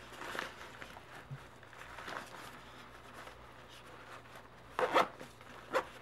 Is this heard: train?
no